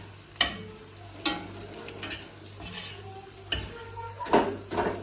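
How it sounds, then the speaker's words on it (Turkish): Eggs whisked in a bowl for a Diyarbakır home dish, giving a few sharp clinks and scraping strokes at an uneven rhythm, close up over a faint hum. "Bunu ekledik yumurtanın üzerine. Böyle çırpıyoruz."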